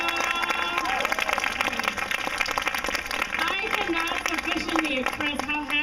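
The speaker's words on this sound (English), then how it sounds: "another round of applause for the amazing speakers that were just up here." Crowd at an outdoor gathering before the Small Farmers March applauding speakers, a sustained round of clapping and cheering under a voice talking over it.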